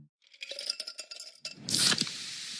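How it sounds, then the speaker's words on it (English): A cluster of light metallic clinks and taps, like ice against a glass, followed by a bright hissing fizz of Pepsi Zero Sugar cola being poured or opened. "That's the sound of Pepsi Zero Sugar."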